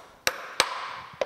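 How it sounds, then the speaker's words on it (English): A small hammer taps a part into place against a Starrett bench block while reassembling a metal planer's cross slide saddle: three sharp metallic strikes, spaced unevenly and close up, with a faint ringing hum between them. "Let me get a little hammer. I need to tap that in a little bit tighter than that."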